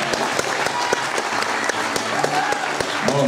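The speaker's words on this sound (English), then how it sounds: "Round of applause for Ash, who takes out the first" Audience applause at a Pokemon VGC regional tournament final, a dense, even burst of clapping from a crowd lasting a few seconds with faint voices underneath.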